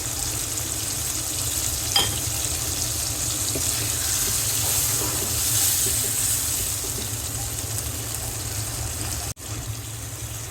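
Potato and eggplant slices sauté in a pan with a little added water for a hilsa curry, making a steady close sizzling hiss that stays even, with a single soft clatter near the end.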